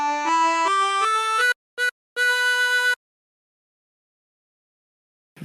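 A 24-hole tremolo harmonica plays a phrase of a song: a run of clear stepped notes, a short break, two brief notes, then a held tone, followed by silence.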